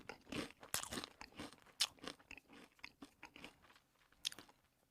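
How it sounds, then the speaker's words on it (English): A ketchup-flavoured potato chip being chewed close to the microphone, with a series of sharp, irregular crunches that gradually thin out and grow quieter. "He's chewing it."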